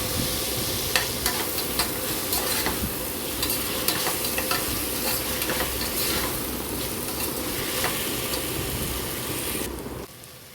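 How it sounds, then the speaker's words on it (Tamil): Spiced masala with mint sizzling in a pan for veg pulao, with a steady loud fry and hiss throughout, a few scraping stirs, then an abrupt stop near the end. "கிட்டத்தட்ட ஒரு 1 மினிட் அளவுக்கு வதக்குங்க"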